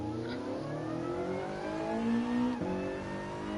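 A car engine in GT Sport revs up and down during a drift, a loud, close mid-pitched whine rising and falling, briefly cutting out on a gear change before pulling again.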